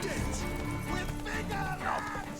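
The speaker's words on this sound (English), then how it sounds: "Ow, that horse ran me over." Horse in The Witcher 3 charging into and trampling a character, hooves clattering and thudding amid busy combat game sounds over about two seconds, with continuous layered noise throughout.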